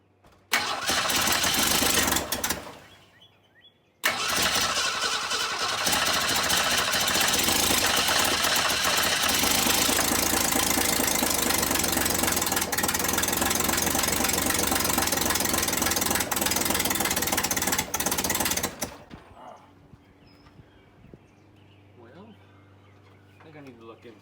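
An old Ford Falcon engine that has sat unrun for 25 years cranks and catches, running loud and rough close by for about fifteen seconds before dying, then a quieter low idle-like rumble with faint birds.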